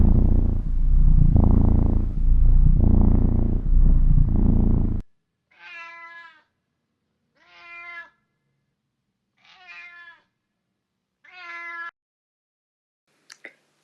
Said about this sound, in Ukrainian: А як вони гарно муркотять.